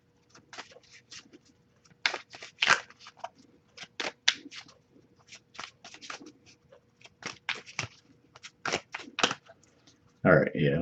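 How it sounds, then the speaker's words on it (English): Tarot cards being shuffled in repeated quick riffles and flicks, crisp papery bursts arriving in irregular clusters at close range with a low background hum, no talking over them. "I'll give it a couple more shuffles"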